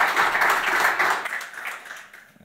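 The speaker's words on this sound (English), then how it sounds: "Applause" A workshop audience at a tech conference breaks into a short burst of applause, a fairly loud wash of many hands that swells briefly and then tapers off.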